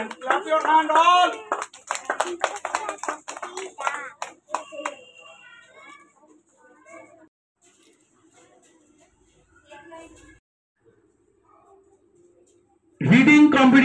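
Children clap their hands at a school Teachers' Day prize announcement, a sudden loud burst of applause arriving only at the very end, after a stretch of a voice talking over quieter background sounds.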